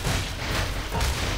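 Gunfire in the game Half-Life 2, a loud burst of booming shots in quick succession that fills the short moment, with no voices.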